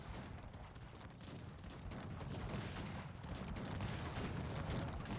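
Howitzer and massed gunfire in the strategy game Cossacks 3 form a dense, continuous barrage of overlapping booms and crackling shots, fairly loud and distant-sounding, with no talk.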